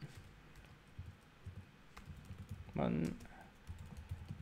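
Typing on a computer keyboard sounds as quiet, scattered key clicks in a hushed room, with a short cluster of louder taps near the end.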